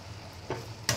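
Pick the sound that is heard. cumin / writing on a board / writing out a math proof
cumin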